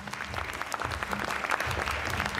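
Short burst of audience clapping in a Tamil-language action comedy film, fairly faint and uneven with bright individual claps over a low rumbling background.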